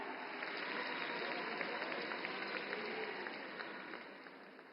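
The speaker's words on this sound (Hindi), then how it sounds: "जोरदार तालियों से स्वागत करें माननीय मुख्यमंत्री जी का" Audience applause welcoming the chief minister at a public foundation-laying event in Panipat: a dense, steady wash of clapping from a large crowd that holds for about five seconds and fades slightly near the end.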